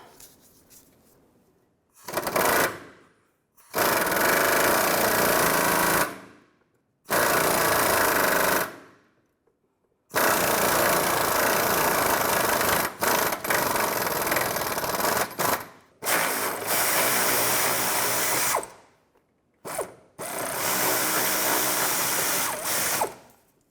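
Ratchet wrench with an 18mm socket loosening a bolt on a 2005-2010 Chevrolet Cobalt clutch slave cylinder, several loud bursts of rapid clicking separated by short pauses, close by with no talking.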